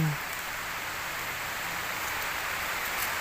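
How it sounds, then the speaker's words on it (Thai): Steady, faint rain hisses down while someone is out picking white amanita mushrooms, an even wash of patter that continues without a break and with no talk over it. "ฝนมาแล้วจ้าพี่น้องจ้า"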